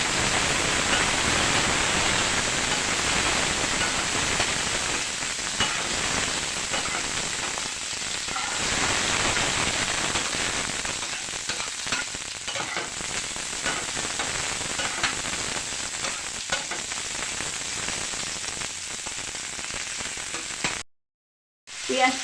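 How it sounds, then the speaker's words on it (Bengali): Onion frying in a pan with turmeric, mustard and chili powder for a katla fish curry, giving a continuous loud hissing sizzle that briefly cuts out near the end. "এখন দিয়ে দিয়েছি হলুদ গুঁড়ো, সরষার গুঁড়ো আর শুকনো লঙ্কার গুঁড়ো দিয়ে পেঁয়াজ ভাজাটার সাথে নাড়াচাড়া করতেছি"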